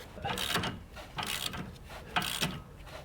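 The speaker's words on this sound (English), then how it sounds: "throw the nut on, put on our wrench" A ratchet wrench clicks in short bursts while tightening an 18 mm nut on a front sway bar link of a 2001–2013 Toyota Highlander, close up with a few pauses between pulls.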